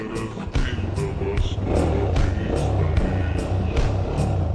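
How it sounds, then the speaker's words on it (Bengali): A GPX Demon 250 motorcycle fires up after a brief moment, then settles into a steady, loud, throaty idle through its muffler exhaust, close to the microphone. "মাফলারের সাউন্ড তো সুপার লাউড।"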